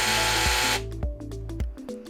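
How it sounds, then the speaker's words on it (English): A handheld reciprocating saw, a traumadrive tool, runs with a harsh buzzing roar that cuts off partway through, leaving a few close clicks and clunks of the tool winding down. "run the saw by depressing the trigger"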